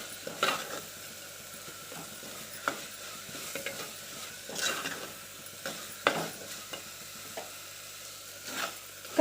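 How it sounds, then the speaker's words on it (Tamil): Curry leaves sautéing in a pan for a curry leaf kuzhambu: a low, steady sizzle broken by a few sharp spoon scrapes and taps against the pan. The stirring is irregular and close, with no talk. "அதை நல்லா வதக்கிக்கலாம்"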